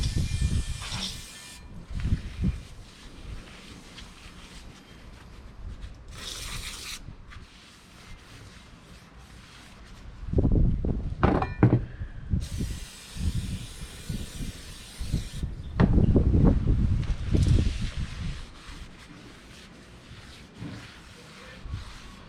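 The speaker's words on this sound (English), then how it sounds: "Just shoot some brake clean and make sure there's no oil on it." Brake cleaner sprayed onto a new brake rotor for a 2014 Honda CR-V, several short bursts of bright aerosol hiss separated by pauses, close and moderately loud, with clunks and soft handling noises between them.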